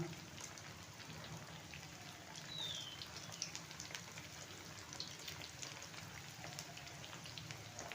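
Chicken kofta made with minced chicken fry gently in ghee over medium flame, a soft, even sizzle and crackle throughout, faint and close with no talking.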